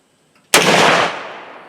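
A single loud, sharp gunshot from a Ruger Redhawk revolver firing 10mm ammunition at an outdoor range, an abrupt close blast that trails off in a long fading echo.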